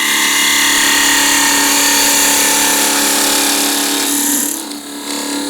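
A square end scraper cuts wood spinning on a lathe while turning a pencil pot, a loud continuous whining, scraping drone that holds steady, then drops in pitch and dips briefly near the end.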